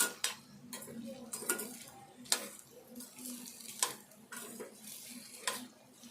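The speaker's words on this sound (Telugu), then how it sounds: "ఇట్లా దోరగా ఇట్లా మొత్తం ఫ్రై కావాలి ఈ క్యారెట్ ముక్కలు" Carrot pieces frying in a pan and stirred, with a series of distinct clinks and scrapes from a spoon against the pan over a soft background sizzle, no talking.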